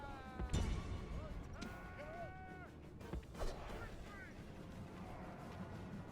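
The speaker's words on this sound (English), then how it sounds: "They're shooting up that bodyguard really well." Missile units fire on an enemy bodyguard unit in a Rome: Total War battle: a few loud, sudden volley bursts stand out over a busy battlefield din, with shouting voices in between.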